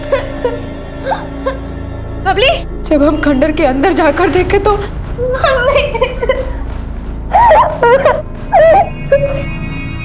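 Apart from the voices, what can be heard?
girl crying in a ruined building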